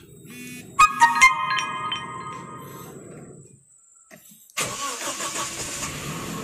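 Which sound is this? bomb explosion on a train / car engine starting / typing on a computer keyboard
car engine starting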